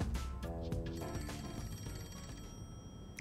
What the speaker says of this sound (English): Is there a phone ringing?